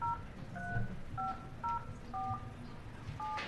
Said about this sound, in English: We're gonna have somebody on the phone here for a quick conference.